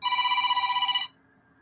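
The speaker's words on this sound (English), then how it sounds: "Getting a phone call from the guy who cuts our grass." A telephone rings once with a bright, steady electronic trill lasting about a second, close and clear, then cuts off into quiet room tone.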